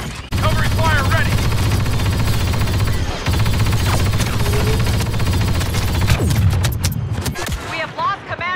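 Dense covering gunfire in a Star Wars Battlefront II battle on Scarif keeps up a steady loud barrage throughout, with blaster shots, explosions and a brief dip near the middle, while faint voices and whooshes surface at times.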